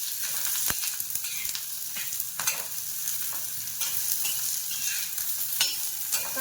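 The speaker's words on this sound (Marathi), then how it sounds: "कांदा चांगला परतून घ्यायचा आहे, बारीक गॅसवरच परतायचा आहे" Chopped onion with ginger sautéing on low heat in a pan for a home-style mutton dish, giving a steady soft sizzle broken by several close scraping stirs of a spoon, with no talking.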